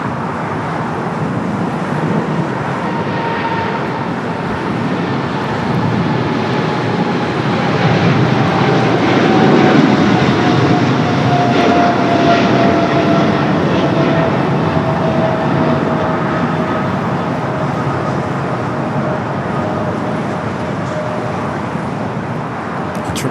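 A Qantas Airbus A330-300 jet departs LAX bound for Brisbane, its engines a steady, loud roar that swells near the middle and holds throughout, with no voices.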